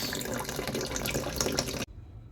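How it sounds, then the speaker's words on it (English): Water running and leaking inside a toilet tank under repair, a close steady trickling and gurgling flow that cuts off abruptly near the end, leaving faint background hum. "because of the force of the water, then again, it leaks."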